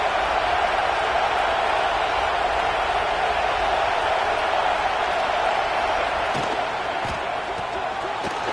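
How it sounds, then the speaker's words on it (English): A huge college football crowd at Happy Valley roars on third down, a loud continuous stadium din of massed voices with a few thumps near the end and a commentator's voice faintly beneath. "Here comes the noise from this big crowd in Happy Valley on third down."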